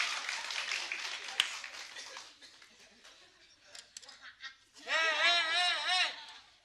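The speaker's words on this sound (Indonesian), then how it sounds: "Tepuk tangan yang meriah" Audience applause and lively cheering at a comedy stage show, rising after scattered talk and ending in a dense burst of clapping mixed with loud, honking whoops.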